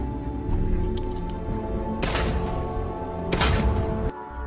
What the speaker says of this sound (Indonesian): John mengajak Maria latihan menembak